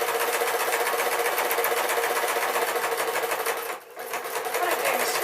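A sewing machine stitching a pink dress runs steadily and loudly at close range, a continuous whirring drone that briefly slows and dips near the end before picking back up to full speed.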